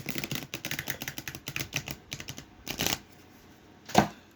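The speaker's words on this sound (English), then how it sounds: "I'm drawing from my Occult Tarot by Travis McHenry" Tarot cards from an occult deck are shuffled in quick rapid bursts of flicking and riffling, close and fairly quiet, followed by a pause and one sharper snap near the end.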